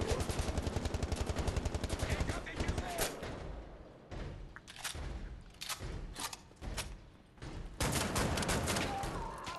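Gunfire in the shooter Wolfenstein opens with a fast, even burst of automatic fire, then breaks into scattered loud shots and short volleys.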